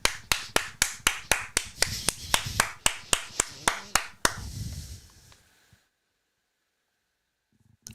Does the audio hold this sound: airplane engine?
no